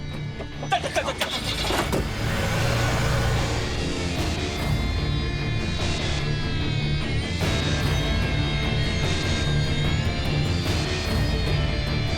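A car engine starts and then runs steadily at high, loud, close volume, as if the car is pulling away, with a brief burst of revving near the start and speech faintly underneath.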